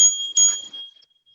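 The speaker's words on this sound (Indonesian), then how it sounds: "Bel sepeda." A bicycle bell rings twice in quick succession, bright and close, its metallic tone decaying into silence with nothing else heard.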